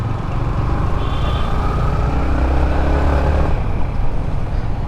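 Heavy road traffic in Chennai: a dense, continuous roar of car, truck and motorcycle engines close by, steady and loud throughout, with a faint rising rev near the middle and no talk.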